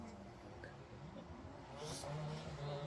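A drift car on a wet, treacherous track at Teesside gives off a steady, rough engine drone with a brief rise in revs near the end, heard at a moderate distance with faint voices underneath.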